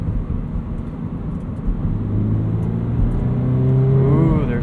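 Engine of a 2017 Toyota 86 with a short final drive, heard from inside the cabin as it pulls and revs, with rising engine tones toward the end of the clip. The drone is steady, loud, and close, and no one speaks.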